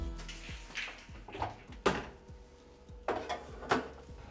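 Banana bread tin going into a preheated oven: scattered metallic clanks and knocks of the tin and oven rack, with a couple of louder bangs like the oven door, close by and without talk.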